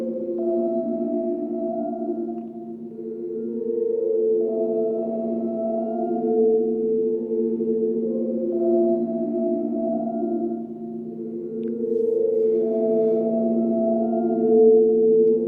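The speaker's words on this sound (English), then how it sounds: "You can hear it vanishing into the reverb." A synthesizer tone fed into the looping reverb of a Kinotone Ribbons pedal, with sustained layered drones that swell and repeat in slow passes, smearing more into reverb with each pass, loud and steady with no talk.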